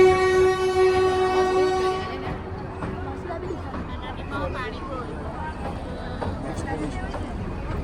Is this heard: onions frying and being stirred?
no